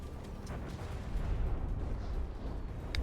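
An explosion in the naval combat game From the Depths, heard as a deep rumbling boom that swells and rolls on at moderate loudness, with faint crackles on top.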